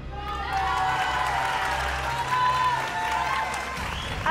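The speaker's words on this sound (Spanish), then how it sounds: "Aplauso para el chico." Studio audience applauding a dancer on a television variety show, a full burst of clapping with some cheering that holds steady and loud for a few seconds.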